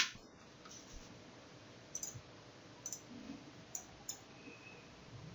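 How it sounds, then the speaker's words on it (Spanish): Computer mouse clicks while working in LTspice circuit simulation software, about five sharp, close, isolated clicks spaced roughly a second apart over a quiet room hiss, with no speech. "posicionamos el mouse, le damos clic"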